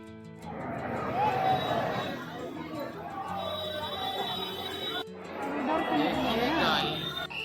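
Crowd of pilgrims queuing at Hanumangarhi temple in Ayodhya, a steady dense hubbub of many overlapping voices with nearby talk rising and falling throughout.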